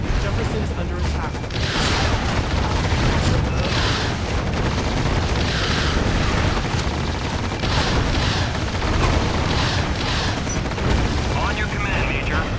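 Steady battle noise from the real-time strategy game Act of War: Direct Action, with rattling gunfire and repeated booming explosions running continuously while radio-style voices talk over the din.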